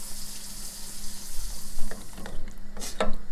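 Water is poured into jerk turkey gravy in a hot pan, giving a steady close sizzle and frying hiss, with sharper splashing and bubbling bursts toward the end.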